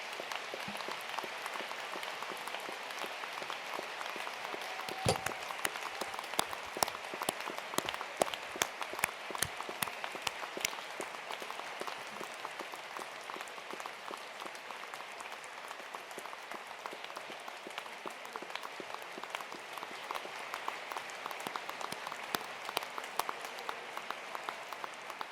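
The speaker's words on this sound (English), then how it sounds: "And applaud your supporters again." Graduation ceremony audience at the University of Edinburgh giving a long round of applause: sustained crisp clapping from many hands, soft and somewhat distant, steady throughout with a few sharper claps standing out.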